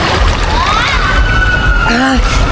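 Sea waves crash and slosh loudly and close by in a steady rush, with excited voices shouting over the water.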